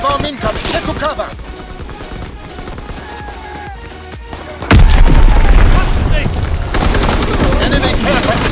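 An enemy bomb explodes in Call of Duty WW2 multiplayer, a sudden loud boom partway through that follows scattered gunfire and in-game voice callouts.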